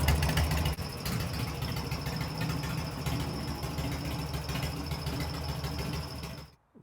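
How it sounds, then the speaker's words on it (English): A Harley Sportster engine idling just after its first start, a low rumbling drone with an uneven throb that runs steadily and then dips briefly near the end, no talk over it. "The bike runs."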